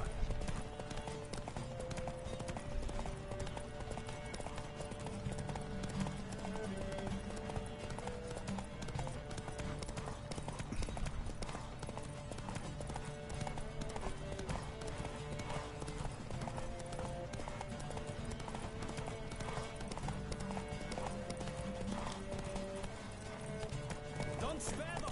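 Rapid galloping hoofbeats of a horse in the video game The Witcher 3, continuous and driving under game music and someone talking throughout.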